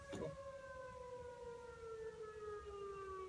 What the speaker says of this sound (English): the siren is right next door at the elementary school